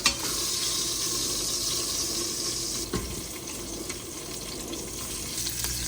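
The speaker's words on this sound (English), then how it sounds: "I'm gonna kind of break the onions up a little bit and let them cook inside of all that leftover oil from the meat" Onions fry in the leftover oil from a pot roast, a steady close hiss and sizzle with a few scraping knocks as they are broken up in the pan, no voices.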